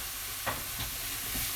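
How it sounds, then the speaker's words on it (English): Food is stirred in a pan during a sausage and lentil cook, a brief close scrape or two over a steady sizzle. "Just giving that a stir"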